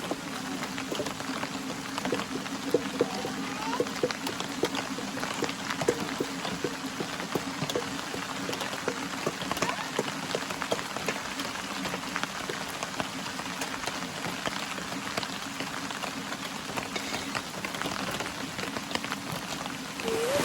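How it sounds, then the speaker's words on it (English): Steady rain drums on a campsite canopy in the Ozarks, a dense, constant patter of drops that holds evenly from start to finish with no voices. "It is raining and raining."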